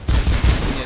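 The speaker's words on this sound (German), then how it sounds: "denn bei Schussgeräusch hört man mich ja nicht so gut" Rapid bursts of gunfire from the Mirror's Edge video game, loud and close, several quick shots packed into under a second with a ringing tail, no talking.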